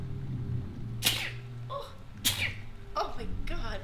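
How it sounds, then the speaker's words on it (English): A person sneezes during relaxed gaming commentary, several sharp, loud bursts in a row with brief pauses between them, set against a low hum of background noise. "I'm gonna sneeze in a second, sorry everyone."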